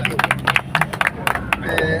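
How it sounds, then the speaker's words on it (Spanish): A small audience applauds at a philosophical discussion, a short burst of quick, uneven hand claps close by over a low murmur. "Dale, un fuerte aplauso a Demóstenes"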